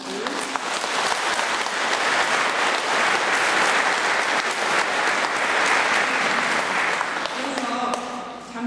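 An audience at a church Advent lecture given by a Catholic nun breaks into loud, sustained applause lasting several seconds before it fades and a voice begins speaking.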